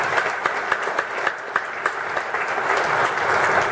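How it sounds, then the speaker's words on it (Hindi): A student audience at a motivational talk applauds loudly. The clapping is dense and sustained, with sharp individual claps popping out near the start and the crowd noise swelling toward the end. "चलो ताली बजाओ जोर जोर से"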